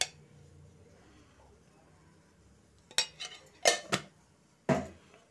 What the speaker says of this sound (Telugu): అలా తిప్పుకుంటూ ఉండాలి, గడ్డలు అనేది కట్టుకోకుండా తిప్పుతానే ఉండాలి